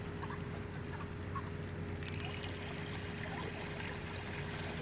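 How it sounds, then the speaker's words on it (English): Water runs steadily from a garden hose into a pool, a continuous hissing, splashing wash that stays level throughout with no pauses, with a faint low hum underneath. "Can't hear him over the water running."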